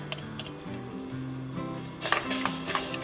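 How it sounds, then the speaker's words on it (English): Turmeric tea being stirred in a pot on the stove, a spoon scraping and clinking against the metal over a low simmering hiss, with the stirring growing louder near the end. "Give it a little stir."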